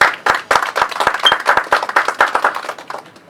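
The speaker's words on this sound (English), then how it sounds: "A round of applause," An audience applauds loudly and steadily for about three seconds, welcoming a guest speaker, Dr. Salisu Bakare, at a policy roundtable session, with distinct sharp claps standing out from the dense crowd clapping.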